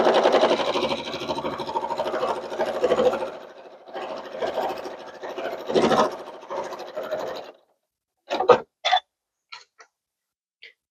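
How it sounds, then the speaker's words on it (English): Sewing machine stitching a quarter-inch seam around an envelope pillow case, a steady close mechanical whir running in stretches with brief pauses, then a few short isolated clunks near the end. "I'm going to do 1/4 of an inch, and I am actually going to sew all the way around."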